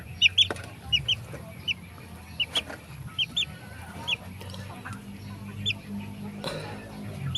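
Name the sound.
three-week-old native chicken clucking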